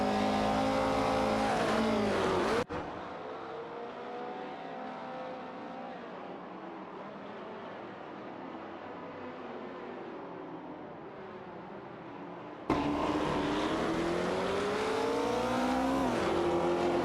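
AI-driven race cars lap a track in a video game, with loud engine whines rising and sweeping at the start and again near the end, and a quieter, muffled stretch in between.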